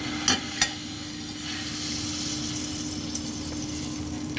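Butter melts in a pan for a chicken sauce, hissing in a soft, even sizzle after two sharp clinks at the start, close and alone.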